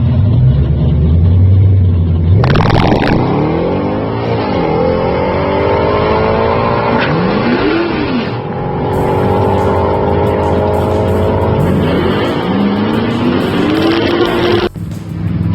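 A drag race car, number 13, makes a timed pass at full throttle, engine roaring loud and near with rising pitch sweeps as it shifts through gears, sustained for the whole run before cutting off abruptly.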